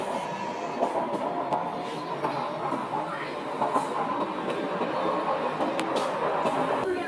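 A BTS Skytrain car in Bangkok rolling along rails, with a steady rumble and faint rhythmic clicks, heard from inside the carriage.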